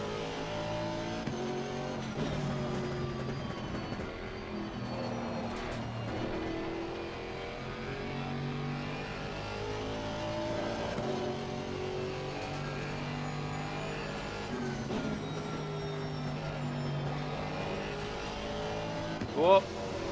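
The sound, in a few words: twin turbo V8 GT4 race car engine in Assetto Corsa Competizione video game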